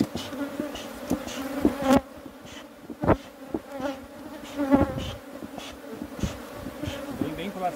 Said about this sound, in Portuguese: Super enxame.